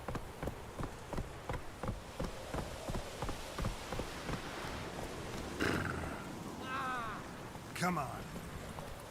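Horse hooves gallop in The Witcher 3, a steady rhythmic thudding through the first half, followed by game sounds and a man's brief spoken words.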